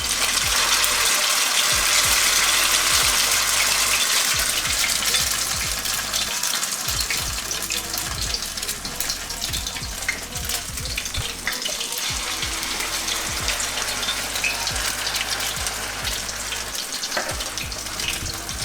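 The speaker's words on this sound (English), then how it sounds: "I'll fry these for a couple minutes." Potato pancakes frying in a pan, a steady loud sizzle and crackle with bright popping throughout, no voices over it.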